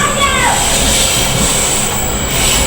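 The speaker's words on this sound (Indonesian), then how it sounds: "Dengar gak kalian suara kereta api tuh" A train rumbles past very close, a loud steady roar of wheels and rail noise with a faint high whine throughout.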